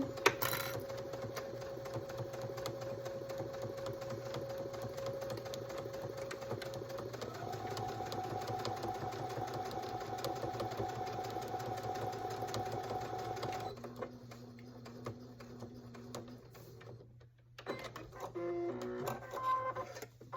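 A sewing machine stitches fabric for a baby bib, running in a steady fast hum with rapid needle clatter that shifts pitch partway, then slows and stops near the end.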